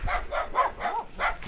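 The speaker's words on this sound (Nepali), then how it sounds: "यो कुकुर कस्तो कराइरहेछ" A dog barking nearby in a series of four or five short, evenly spaced yips and barks, fairly loud and alone without talk.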